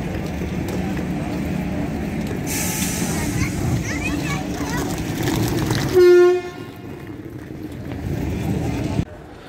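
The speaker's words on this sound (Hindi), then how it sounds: "जम्मू रेलवे स्टेशन के दो नंबर पर हमारी गाड़ी आई है" A train pulling in at platform two of Jammu railway station, with a steady rumble of cars, a sharp loud horn blast midway, then quieter station ambience with people talking around.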